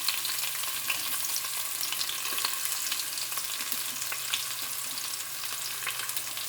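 Chopped onions fry with cumin seeds in hot oil, giving a steady, bright sizzle with faint crackles and an occasional stir, close and continuous with no talking.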